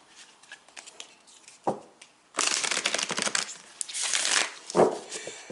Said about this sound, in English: So we're going to shuffle the cards one more time.